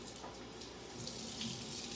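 Warm tap water runs steadily into a sink while a vinyl record is washed, a continuous close hiss and splash with slight shifts as the record is moved under the stream.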